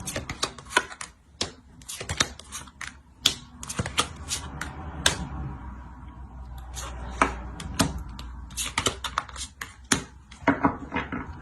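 Tarot cards are drawn and set down one after another in quick, sharp snapping flicks and soft slides, an irregular close run of papery clicks with short pauses and no talk.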